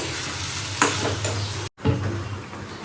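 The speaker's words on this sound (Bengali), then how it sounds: "এটা ফুটুক একটু, ফুটে গেলেই নামিয়ে দেবো কাঁচা তেল দিয়ে।" Curry gravy cooks in a pot with a steady bubbling sizzle, a spoon scrape partway through and a brief cut to silence before the simmer resumes, close and with no talking.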